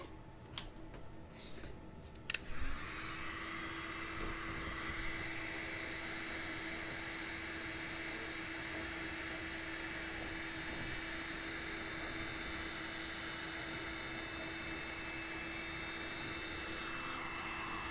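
A heat gun shrinking heat shrink tubing on car radio wiring: after a few brief clicks, a steady, loud blowing whoosh with a constant tonal hum that runs unbroken for the rest of the clip.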